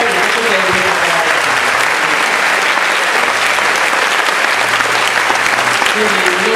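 A concert audience at an Italian San Bartolomeo event gives loud, dense, steady applause that fills the space throughout, with voices mixed in beneath the clapping.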